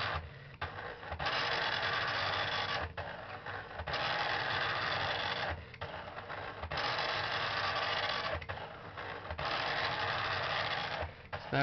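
Amstrad PCW 8256 dot matrix printer printing steadily, long loud stretches of buzzing print head chatter separated by brief regular breaks for line feeds, close and mechanical.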